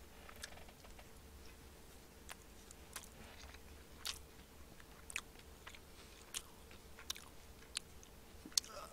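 Quiet, crisp crunching bites of a spicy barbecue-flavored snack repeat at a slow, irregular pace, close up, over a soft steady background hum.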